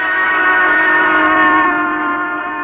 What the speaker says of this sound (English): a locomotive steam whistle sounds higher when it is approaching and lower when it's receding